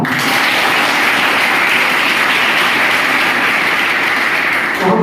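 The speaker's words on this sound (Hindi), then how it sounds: "अपने देश के लिए एक बार जोरदार तालियां" An audience at a school event applauds loudly for their country, a dense, steady wash of clapping that stays strong and unbroken until it cuts off near the end.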